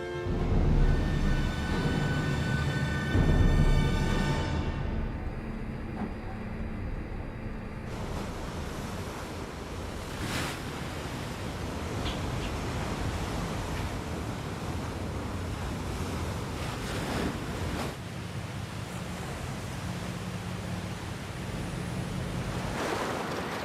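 Sea waves surging across the open water of Cook Strait, New Zealand, a steady loud wash of surf and wind rolling on without pause, with no voices.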